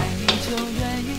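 Diced chicken with corn is stir-fried in a wok during seasoning: a soft sizzle runs underneath while a few quick spatula strokes scrape and clatter close by.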